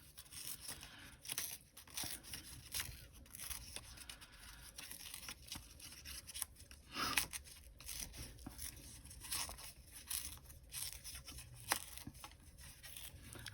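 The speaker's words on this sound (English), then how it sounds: "I think I'll go ahead and tear the edges." Paper edges being torn by hand for a junk journal, a series of soft, close ripping and crinkling strokes at irregular intervals, fairly quiet with no talk.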